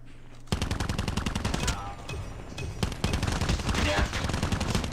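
Rapid automatic gunfire in Call of Duty Mobile, a continuous loud stream of closely spaced shots that starts abruptly, with a brief lull and then renewed steady firing until the end.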